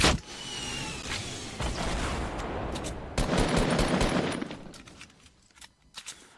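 Legendary minigun firing in Fortnite, a sustained rattling burst of rapid automatic fire that runs for several seconds, then thins out into a few scattered shots and mechanical clicks.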